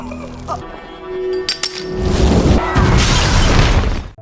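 A sharp clink and glassy crack lead into a loud, roaring blast that rumbles and sustains before cutting off abruptly.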